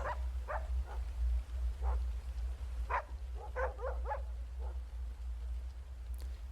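Several dogs bark in scattered bursts in a Turkish horror video game, some close together, over a steady low hum with no talking.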